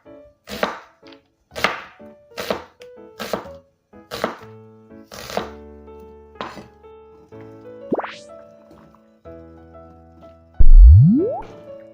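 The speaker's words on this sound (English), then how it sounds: "Slice your onion while waiting for potato." An onion is sliced with a knife on a board, giving a run of sharp, evenly spaced cuts that slow and thin out, followed by scattered clinks and a loud closing thud. No one speaks.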